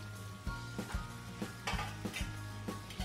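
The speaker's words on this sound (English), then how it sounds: "Now mix all these ingredients." Chicken being stirred with red chili sauce and crushed pepper in a pan: repeated scraping strokes of a spoon against metal roughly every half second over a steady sizzle, close and moderately loud, no voices.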